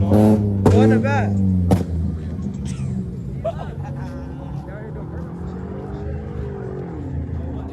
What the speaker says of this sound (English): Y'all they doing the burnouts.